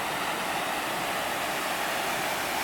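Steady rushing water pours through a small waterfall deep in a ravine, a dense, continuous roar heard up close with no voices.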